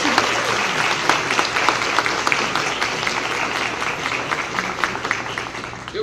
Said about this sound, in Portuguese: Agora mais uma salva de palmas para ela.